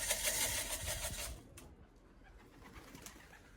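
Soft, low racing homing pigeon cooing amid quiet outdoor background noise, fading a little after the first second.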